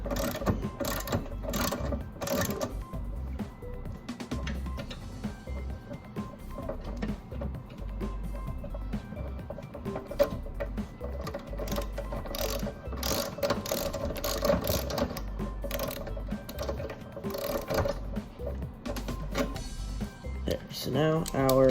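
Ratchet or wrench clicking steadily while unscrewing the blade bolt on a push mower, close and repetitive, with a voice talking over it throughout.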